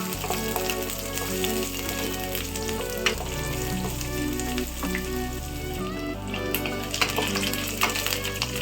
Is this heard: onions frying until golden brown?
yes